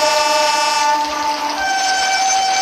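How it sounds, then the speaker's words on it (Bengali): A train pulls away from a quiet station platform with a loud, sustained horn tone over a rolling rail rumble. The pitch shifts slightly partway through, and no voices are heard. "হঠাৎই ঘেঁচাং করে শব্দ তুলে ট্রেনটা ছেড়ে দিল।"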